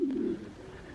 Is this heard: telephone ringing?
no